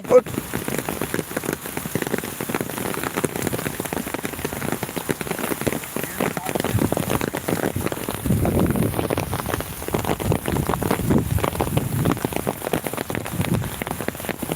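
Steady rain patters on surfaces throughout, a dense continuous hiss at the onset of the monsoon in Konkan, with a voice talking briefly now and then.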